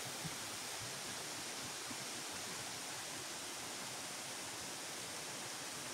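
Hidden waterfall tucked behind houses at Tarimes Falls, a steady, even rush of falling water filling the scene with no pauses or voices.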